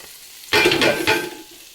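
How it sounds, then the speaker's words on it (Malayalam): After a quiet start, masala is stirred into cooked tomato, carrot and beans in a hot pan, bringing a sudden burst of scraping and sizzling with a second scrape before it settles into a softer fry. "മസാലകളെല്ലാം ഇട്ട ശേഷം നമ്മൾ നന്നായിട്ട് ഇളക്കി കൊടുക്കണം"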